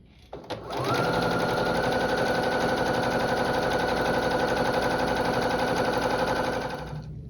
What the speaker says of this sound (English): we're going to sew again with 1/4 inch seam here